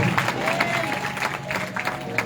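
A crowd claps steadily, dense scattered hand claps forming continuous applause at moderate loudness, with a murmur of voices underneath.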